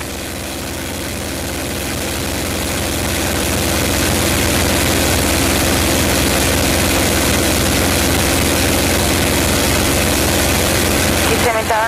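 A P-51 Mustang propeller aircraft's engine runs up for takeoff, a loud, steady, heavy drone that builds in the first few seconds and then holds, filling the whole span with rumble.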